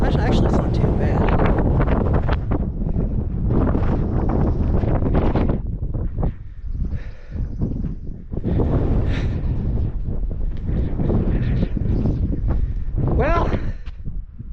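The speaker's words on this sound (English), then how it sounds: "Windy outside." Strong, steady wind buffets the microphone at the summit of the highest point in Tennessee, a loud continuous roar with gusty swells, while people talk over it.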